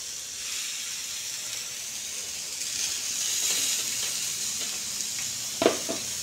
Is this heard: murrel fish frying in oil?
yes